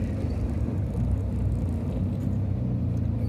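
A car climbs the steep Ajanta ghat in first or second gear, its engine giving a continuous, loud, low rumble that strains evenly from start to end, with no talking.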